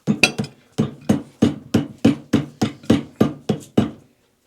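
Steady hammer taps on a high-mileage 1999 Polaris 800XCR engine during teardown, about a dozen sharp, evenly spaced metallic knocks, close and loud with no talking.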